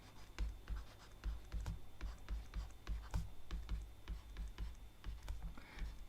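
An equation is written out by hand during a quantum information lecture, giving a steady run of short scratchy strokes and taps with soft low thumps, close and fairly even, with no talking.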